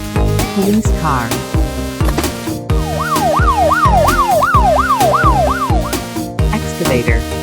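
A toy police car's electronic siren plays a rapid rising-and-falling wail, loud and close, over a busy mix of other toy vehicle sounds and beeps.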